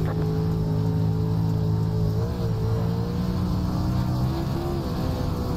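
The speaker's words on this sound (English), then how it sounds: "Give it that race car noise." Late model dirt race car engine at Eldora Speedway in the iRacing simulator, a loud steady drone with sustained tonal harmonics that shift in pitch as the revs change, continuous throughout without talk.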